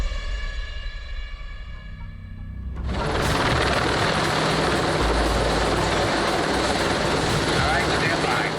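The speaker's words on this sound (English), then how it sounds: "all the low-flying helicopters" Low-flying helicopters over a city street during a SWAT action shoot: a thin high whine builds, then a loud, close rotor roar bursts in and holds steady.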